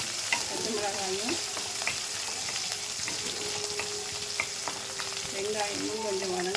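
Green chilies and onions sauté in a pan with a continuous close crackling sizzle and occasional stirring scrapes, while a faint tonal hum wavers in the background.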